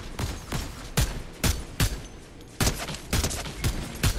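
Marksman rifle fire in the video game Fortnite: a string of about nine sharp, loud shots at an irregular, roughly half-second pace, each a bright crack with a quick decay over steady game ambience.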